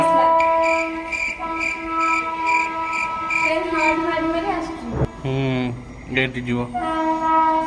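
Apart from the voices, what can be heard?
train arriving with horn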